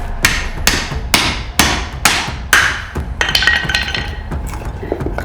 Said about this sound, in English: 4 inches of wood here that we just beat right through